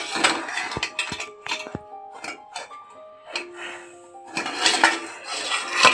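Cassava puttu being moved into a cooking vessel, with a series of clinks, scrapes and knocks of utensils against metal pots, irregular and close, with no talking.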